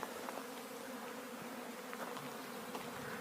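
Honeybees buzzing around hives in an apiary in the morning sun, a soft continuous hum with a few louder passes as individual insects fly close.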